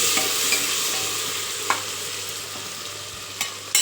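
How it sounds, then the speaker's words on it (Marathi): Cumin and other ingredients sauté in oil for dal-rice khichdi, a steady close sizzle with a few sharp clicks of a spoon stirring against the pan. "जिरे चवीसाठी असे सर्व साहित्य परतून घेऊया तेलामध्ये"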